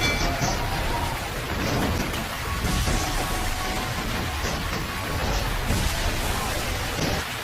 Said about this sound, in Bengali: আর তখনই অনেক জোরে ঝড় বৃষ্টি শুরু হয়।